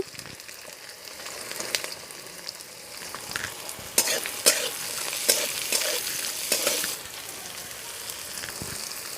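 Chopped carrot, garlic, ginger and chilli fry in hot oil with a continuous sizzle, punctuated by irregular scraping stirs that grow busier midway before settling back.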